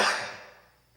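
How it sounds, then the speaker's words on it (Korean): A single cough from a preacher during a Sunday church service sermon, a sharp burst that quickly fades, close and alone with no talk over it. "지금 제가 너무 흥분했나 보다. 그러니까 기침이 자꾸 나네요."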